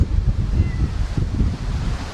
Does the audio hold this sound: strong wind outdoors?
yes